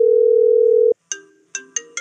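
A phone rings: a steady tone holds for about a second, then cuts off and gives way to several short, bright, repeating chime notes.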